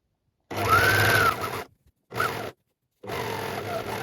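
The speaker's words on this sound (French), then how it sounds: "on va ici donc surjeter ici le bas de la doublure" A serger overlocks the bottom hem of a dress lining in three bursts of close, loud, even whirring stitching, separated by short silent pauses.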